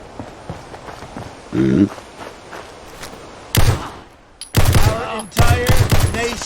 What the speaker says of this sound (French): c'est bien l'arme des Resident Evil de Beretta. Il fait le même bruit, je pense.